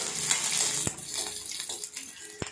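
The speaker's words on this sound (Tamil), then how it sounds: "இஞ்சி நல்லா வறுபட்டதுக்கப்புறமா பச்சை மிளகாய் ஆட் பண்ணிக்கலாம்" Ginger and green chilies sizzle in hot oil in a pan while making curd vermicelli (thayir semiya): a steady soft hiss, broken by a few sharp metallic clinks of a spoon against the pan, close by with no talking.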